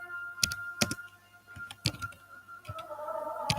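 Keys clack on a computer keyboard in short, irregular bursts of separate taps over a quiet background with a faint steady hum, close by and fairly soft.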